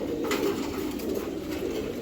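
A female Giribaz pigeon coos in a low, continuous rolling murmur, close and steady, with no voices over it.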